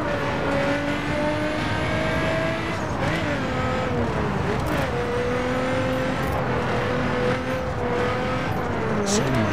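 Performance car engine in the racing game The Crew Wild Run, steady droning tone that rises and falls with revs and gear changes, continuous and loud throughout.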